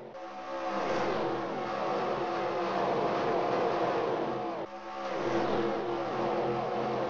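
Stock cars roar through turn three at Daytona, a loud, sustained engine drone with pitch sweeping as the pack passes, a brief dip, then another surge of racing engines.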